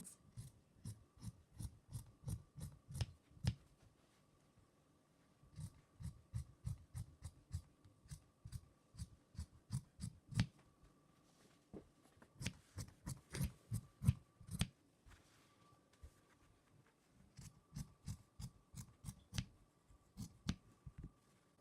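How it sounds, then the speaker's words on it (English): Scissors cut fabric for a long gown in steady, soft snipping bursts, close and quiet, with short pauses between runs of cuts. "Now you may cut it out along the lines."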